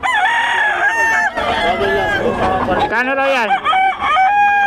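Roosters, gamecock stags on sale at a festival expo, crow loudly and close, several calls overlapping with clucking. Someone speaks briefly among them.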